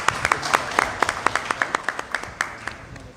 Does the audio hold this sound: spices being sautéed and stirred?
no